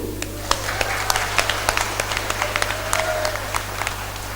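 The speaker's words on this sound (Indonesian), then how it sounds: "Aplaus dulu." Audience at a 2015 regent candidates' public debate in Ketapang, West Kalimantan, breaking into steady applause, a dense run of claps with a low hum underneath.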